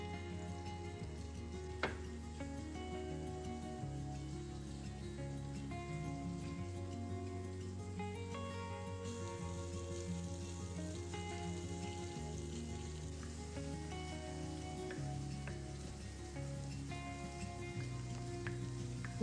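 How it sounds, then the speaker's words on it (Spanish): Meat fries in a pan in a home kitchen with a steady, quiet sizzle, accompanied by faint tonal sounds in the background. "Mientras la carne se va friendo"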